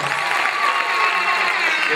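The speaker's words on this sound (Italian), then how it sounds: "Gente, un bel applauso per il Premi Friuli, grazie." A live concert audience breaks into steady applause, a dense continuous wash of clapping with scattered cheers and voices mixed in.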